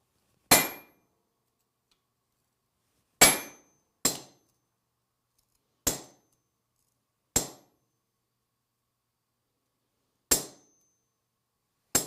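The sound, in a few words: hammer stamping maker's mark into a nakiri knife blade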